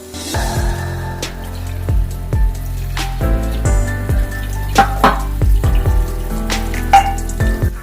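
Soft chhana (fresh cottage cheese) being pressed and rinsed by hand under a running kitchen tap, with steady close water flow broken by repeated splashes and squelchy knocks, no talking.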